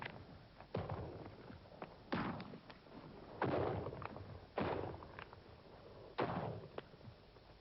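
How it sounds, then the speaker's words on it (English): Modern automatic rifles fire at an outdoor shooting range, heard as about five loud, spaced single reports with echoing tails, each a sharp crack rising out of steady background noise. "Modern automatic rifles"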